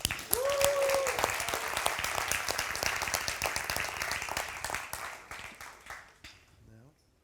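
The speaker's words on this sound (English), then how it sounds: "So let's give them a very big warm of applause." Warm audience applause for startup founders at a tech accelerator demo day in Tel Aviv, a dense wash of clapping that builds quickly and then fades out over several seconds, with a brief voice near the start.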